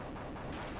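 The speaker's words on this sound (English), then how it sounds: "come on, chain gun" A chain gun rattles in the 1992 Mega Drive game Desert Strike: a dense, steady burst of rapid, gritty gunfire that fills the whole short moment at a fairly low level.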